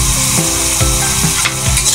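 Ginataan chopsuey vegetables in coconut milk are stirred in a hot pan, with loud continuous sizzling and a steady rhythm of spoon scrapes about every half second, close up.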